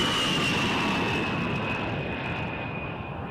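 Steady, loud roar of A-10 jet engines overhead, a broad sustained whoosh with a faint high whine that holds for about three seconds and eases slightly toward the end, with no talk.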